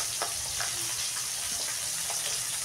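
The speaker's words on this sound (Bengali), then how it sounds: "এই যে মাছ বসে গেছে, মাছ ভাজছি, মাছের তেল ঝাল করবো" Bata fish frying in hot oil in a home kitchen, a steady broadband sizzle running throughout with faint clinks and stirring sounds on top, close and continuous without any talking.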